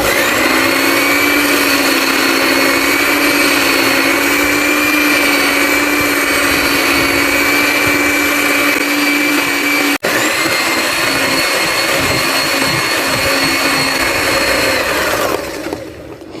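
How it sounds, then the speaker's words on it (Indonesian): An electric mixer whirs continuously as it beats eggs, sugar and vanilla into cake batter, a loud, steady motor drone with a brief dropout midway and a slowdown at the end. "Di mixer sampai 5 menit kira-kira."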